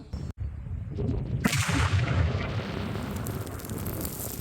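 Petal anti-personnel mine with a 100-gram charge detonating under a protective boot on a test range: a sharp loud blast followed by a sustained rumbling, crackling roar that fades slowly.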